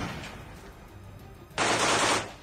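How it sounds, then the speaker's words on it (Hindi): Machine gun fire from war footage near a steel plant, a loud dense burst of rapid shots arriving abruptly after low background rumble and lasting about half a second before fading. "एक जगह तो मशीन गन से इस तरह गोलियां चलती दिखाई दी"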